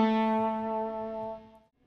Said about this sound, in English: So it's slide from 9 to 11, pull off to 9, and slide back to 7.